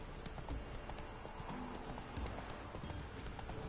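Horse hooves galloping in The Witcher 3, a rapid, steady clip-clop that continues throughout, soft and in the background over a dense wash of game noise.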